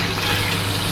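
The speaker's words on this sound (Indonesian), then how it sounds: "Jadi akan saya coba goreng aja dulu minyaknya ini sampai dia punya flavor oilnya itu keluar." Curly red chili, garlic and thinly sliced ginger frying in oil for a wagyu stir-fry sauce, a steady close sizzle that holds evenly throughout with no voices.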